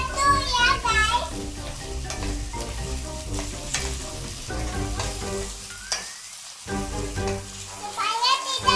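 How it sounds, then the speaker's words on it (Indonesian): Meatballs (bakso) with butter being stirred and cooking in a pan in a child's play-cooking setting, a constant sizzle with stirring clatter beneath a child's chatter and background music. "Diaduk-aduk, baksonya diaduk-aduk."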